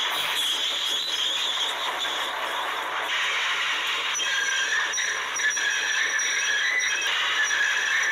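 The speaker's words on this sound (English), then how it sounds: "He screeched to a stop" A toy-scale train gives a sustained high metallic squeal as it brakes, steady and fairly loud over a rumbling background.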